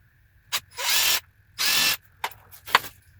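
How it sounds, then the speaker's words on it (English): A power drill whirs in two steady bursts of about half a second each, close up, drilling a pre-marked, taped telescope base, with brief clicks and taps between them. "So we'll just go ahead and drill that."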